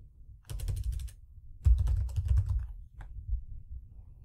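Keys tapped on a computer keyboard while typing a note, two bursts of rapid close clicks with a few stray taps after, no talking.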